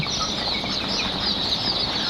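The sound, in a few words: Fayoumi chicken chicks clucking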